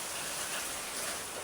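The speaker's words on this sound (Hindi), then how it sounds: "ये देखो इतनी खतरनाक बारिश हो रही है" Heavy rain pours steadily in Haldwani, a dense, even hiss that stays loud and unbroken throughout, with no talking.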